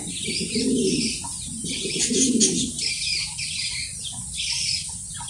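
Mundian pigeons at a farm coo in low, rolling bursts close by, with a constant bright hiss of background noise and brief wing flutters.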